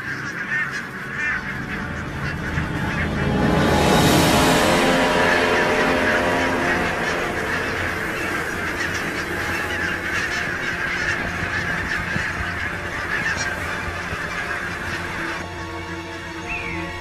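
A large flock of geese honks loudly and continuously, a dense chorus of overlapping calls that swells early and stays busy throughout.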